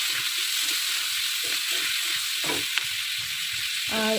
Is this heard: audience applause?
no